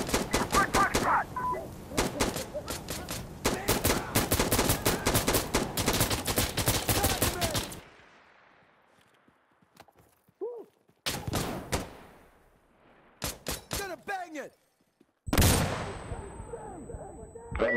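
Bursts of automatic rifle fire crackle close by in an Insurgency: Sandstorm firefight, long rapid volleys giving way to short bursts separated by near-silent gaps, with a few louder blasts.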